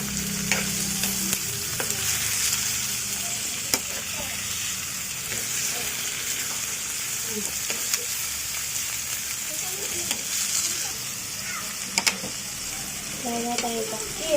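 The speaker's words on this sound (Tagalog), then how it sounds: "Ang pinili ko ay puro chicken wings. Para habang ginigisa ay ma-absorb niya yung lasa." Chicken wings sautéing in a pan for chicken afritada, with a continuous close sizzle and occasional utensil clicks and stirring, while a person talks over it at times.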